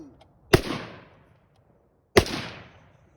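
Two sharp, loud AR pistol gunshots crack about a second and a half apart, each followed by a short ringing decay into quiet.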